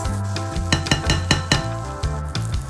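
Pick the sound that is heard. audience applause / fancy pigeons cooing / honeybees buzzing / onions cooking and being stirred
onions cooking and being stirred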